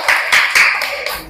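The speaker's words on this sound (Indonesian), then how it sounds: "Pintar, tepuk tangan." Children in a classroom clap their hands in a few loud, bright bursts of applause, close and distinct, each swell rising and fading within about a second.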